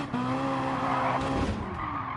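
A Bull Rush Rally Ferrari in a racing video game, its engine droning steadily with a tonal whine as tyres skid and squeal, loud and continuous with no talk.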